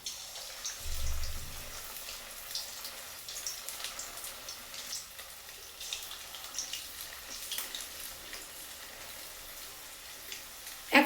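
Chicken lollipops deep-frying in oil over low to medium heat, three or four pieces at a time, giving a steady soft crackle and bubbling hiss throughout with a brief low thump near the start.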